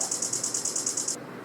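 Trap-style hi-hat programmed in steady sixteenth notes for beat making, a bright, even ticking run of about a dozen crisp hits that repeats evenly and then stops, with no other instruments or voices.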